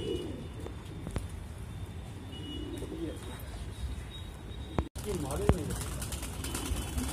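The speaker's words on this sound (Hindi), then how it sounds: "ये फ्रेंड सारे कबूतर हैं, इनका शौक था सहारनपुरियों का, बहुत ज़बरदस्त पेयर है।" Saharanpuri breed pigeons coo in soft repeated rolling calls, close by, with chirps from other birds, a sharp knock midway and people talking over them.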